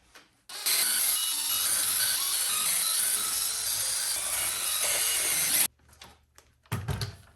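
Parts being worked off an Arrma Limitless RC car while its side skirts and battery trays come off: a close, sustained grinding rasp lasting about five seconds, then a few short clicks and knocks.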